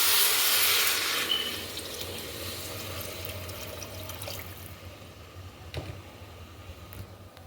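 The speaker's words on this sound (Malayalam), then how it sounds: "വെള്ളം ആഡ് ചെയ്യുന്നത്" Water pours steadily into a pot of biryani in a home kitchen, starting strong and fading to a gentler trickle, with no talking.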